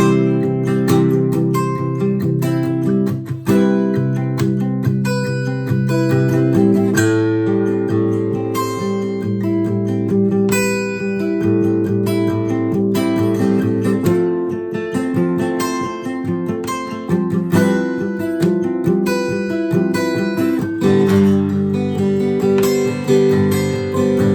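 Rhythmic, palm-muted electric guitar chugs steadily throughout, with clean melodic notes on top and echoing delay repeats, loud and continuous.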